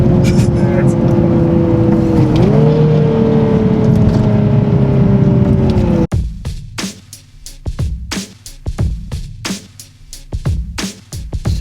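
A Nissan 370Z Nismo fitted with AAM resonated short-tail exhaust drones steadily with a brief rev dip, then cuts to a series of sharp, choppy engine bursts and pops as it downshifts, loud and close.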